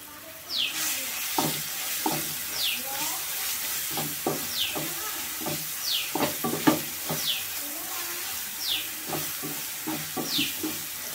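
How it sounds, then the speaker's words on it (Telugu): Onion chili paste frying in a village kitchen pan, a soft continuous sizzle broken by scattered clicks and stirring taps, with regular chirps repeating in the background. "ఉల్లిపాయ కారం కూడా ఏం అడిగంటనేకుండా మాడలేకుండా వేపుకుందాం"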